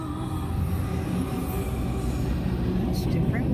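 A CN freight train with double CREX locomotives and a distributed power unit rolls past at Belleville, a close, steady rumble of wheels and cars with a brief high squeal near the end as it slows.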